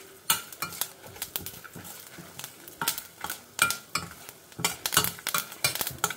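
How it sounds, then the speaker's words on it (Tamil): Cumin seeds spluttering in a hot pan, with irregular crackling pops and light metallic clinks of a utensil against the pan, fairly close and without talking. "ஜீரகம் பொரிய ஆரம்பிச்சுடுத்து அடுப்பை ஆஃப் பண்ணிடலாம்"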